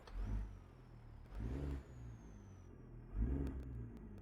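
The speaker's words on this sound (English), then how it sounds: "Love the sound of this engine." A heavy truck engine in the American Truck Simulator game, played in VR while hauling in snowy Colorado, hums steadily with several rising revs as it accelerates, fairly quiet and with no voices.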